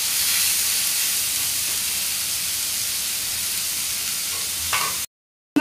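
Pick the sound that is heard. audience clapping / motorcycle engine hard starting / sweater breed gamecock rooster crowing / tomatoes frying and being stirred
tomatoes frying and being stirred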